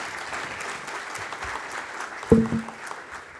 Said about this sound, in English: Can we please have a round of applause for both of them?